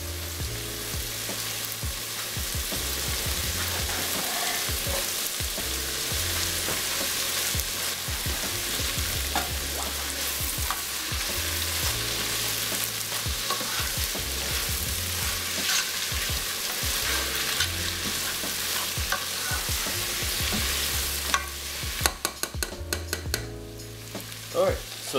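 Onions fry and sizzle steadily in a pan for a vegetarian summer melon soup, with scraping stir strokes and clinks throughout and a burst of sharper clatter near the end, no talking.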